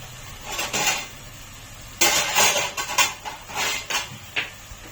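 Metal clanks and scrapes as a lid is set onto a cooking pot of egg curry on a stove, with several close, sharp knocks and rattles in short bursts.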